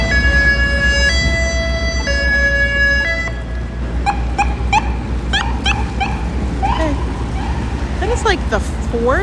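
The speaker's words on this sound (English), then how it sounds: "That is like the 4th ambulance I've seen." A wailing ambulance siren sweeps up and down near New York City's Central Park, mixed with steady tonal melody and background street noise, while a dog barks intermittently.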